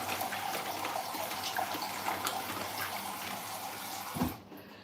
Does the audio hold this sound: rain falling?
no